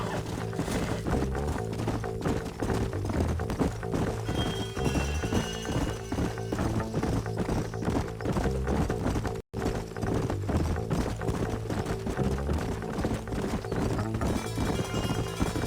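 Horses galloping in Red Dead Redemption on Nintendo Switch: steady clip-clop hoofbeats run throughout at constant loudness over a dense game soundtrack, with an occasional whinny and one brief dropout midway.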